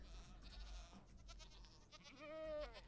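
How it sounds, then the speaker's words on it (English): Goats in the Minecraft game bleat in a wavering, nasal call near the end, over a steady low game hum with a few soft clicks before it. "How many goats are in here?"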